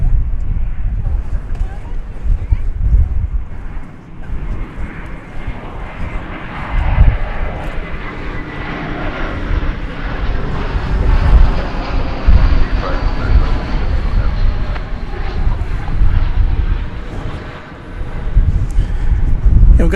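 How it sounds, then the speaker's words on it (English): An AeroMexico Connect Embraer 190 jet rumbles at DFW Airport, its engine roar rising and falling at a distance amid heavy wind buffeting on the microphone. "That's an Embraer 190 going back to Mexico City."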